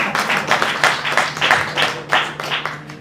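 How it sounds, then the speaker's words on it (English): An audience at an evening meet-and-greet with Scottish delegates in New Delhi claps, the applause coming in rhythmic, fairly loud bursts over a faint low hum. "we should clap hard for him"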